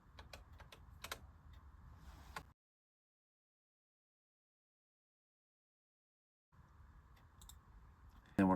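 Quick, faint clicks of a computer keyboard are heard as a Wi-Fi password is typed during Raspberry Pi setup, with a silent gap midway before the tapping resumes.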